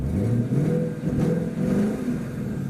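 A 2015 Ford Mustang V8 engine rumbles deeply and steadily close by, swelling slightly as it revs, with no voices over it.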